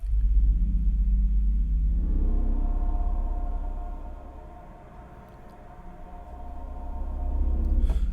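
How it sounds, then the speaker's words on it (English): The Storm Drone morph patch from East West Quantum Leap Goliath gives a deep, dark rumbling drone. It swells, dips to a quieter hollow passage midway, then builds back up, with no voices. "they have a whole subset of sounds called Storm Drone"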